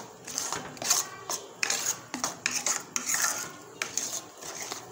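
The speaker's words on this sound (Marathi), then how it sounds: "आता ह्या स्टेपला सतत आपल्याला हलवत राहणं गरजेचं आहे, कारण आपलं बेसन हलकं झालेलं आहे" A spoon scrapes and stirs gram flour (besan) roasting in a pan, producing close, irregular metallic scraping strokes in quick bursts.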